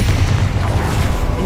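A Confringo blasting spell from a Harry Potter video game, heard as a loud, dense, sustained burst with heavy low rumble that fills the whole brief moment without pause.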